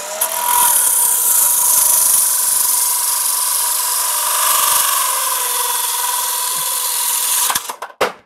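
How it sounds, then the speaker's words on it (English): A cordless Dewalt saw on a low battery, its blade spinning slowly through a cut, gives a sustained, loud, strained whine for several seconds before stopping with a few clattering knocks at the end. "if the blade's spinning really slow"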